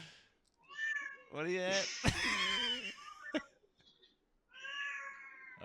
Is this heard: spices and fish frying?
no